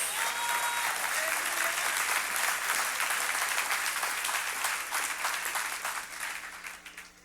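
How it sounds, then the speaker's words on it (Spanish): A church congregation bursts into sustained applause, dense clapping that holds steady and then fades toward the end, with a voice faintly audible beneath it. "O dale ese aplauso a Dios."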